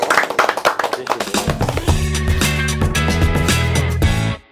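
An audience at a Pangyo creative hub visit bursts into brisk, close, loud clapping that thins out after about two seconds, and sustained tonal music swells underneath before cutting off.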